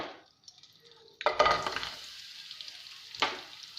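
Jaggery stirred and melting in a pan on low heat, with scraping spoon strokes and a sizzle that swells after a quiet start, plus a second scrape near the end, with no talk.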